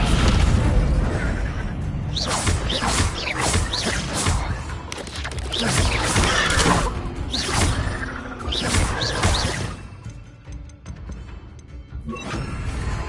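Spells cast in the Hogwarts Legacy video game, a dense run of booming blasts, crashes and whooshing bursts in rapid succession, loud and continuous with a brief lull near the end.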